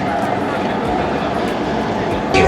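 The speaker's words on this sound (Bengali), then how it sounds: "তো এবার ট্রেন ছেড়ে দেবে" Steady rumbling and rolling noise of a Vande Bharat Express train pulling away from a platform, continuous and fairly loud, with a brief louder burst near the end.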